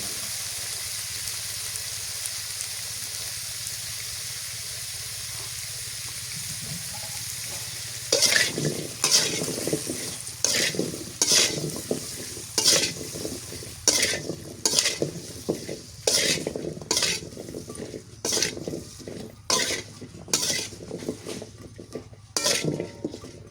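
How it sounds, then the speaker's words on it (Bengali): Beef lung and cauliflower curry fries in oil, a quiet sizzle at first, then a spoon scrapes and clanks rhythmically against the pot in repeated stirring strokes over the crackling. "হালকা করে তেলের মধ্যে ভাজা নিলে পরে রান্না করলে"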